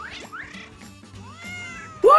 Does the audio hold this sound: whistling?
no